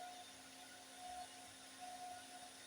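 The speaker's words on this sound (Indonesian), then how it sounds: "Ya, ini ada kipas nih di depan saya." The cooling fan on an upgraded JL3 LED headlight bulb spins fast at about 4,000 RPM, making a thin, steady whir at low volume, joined by a faint intermittent tone.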